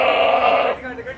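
A goat bleats at a busy livestock market in Taxila: one loud, close, wavering cry lasting under a second, then trailing off into quieter background noise.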